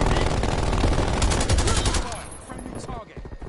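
Turret machine gun fire from a Nuketown match in a Call of Duty style shooter, a dense, loud stream of rapid shots over the first two seconds that thins and fades toward the end.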